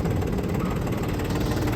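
A small Iseki TA235 Landleader tractor with front loader idles steadily after starting, its diesel engine giving a continuous low, even rumble close by with no talking.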